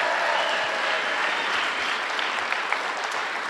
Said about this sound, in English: One more round of applause for all of our upscale speakers.